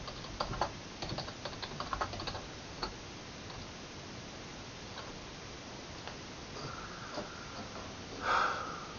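Keys tapped on a computer keyboard during C programming setup on Linux, a quick irregular cluster of clicks early on, then quiet room tone with a faint beep near the end.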